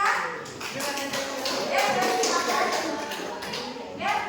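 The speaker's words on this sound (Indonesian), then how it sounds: "tepuk tangan dulu untuk kelompok 3" Students clapping in a classroom for a group after their presentation, an uneven patter of hands from a small group, moderately loud and continuous, with some voices mixed in.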